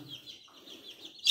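Soft clucking and chirping from a few porcelain bantam chickens in a coop, faint and close, with a brief louder squawk at the end.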